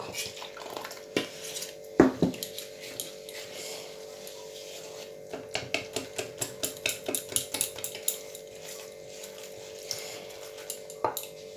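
Whisking batter with a utensil against a bowl for a savoury evening snack made with soaked semolina, a quick run of rhythmic clinking taps, close and fairly quiet, with an isolated louder knock near the start.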